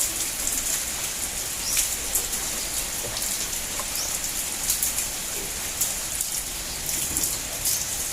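Steady rain patters on a surface, a constant hiss with scattered sharper drops throughout and no voices.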